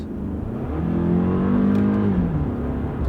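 A Toyota car engine revs up and accelerates, its pitch climbing in a smooth whine over a few seconds, close and fairly loud.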